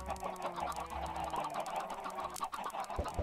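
Chickens cluck repeatedly in the Minecraft video game, a steady layered flock sound with overlapping calls running throughout, with no talking over it.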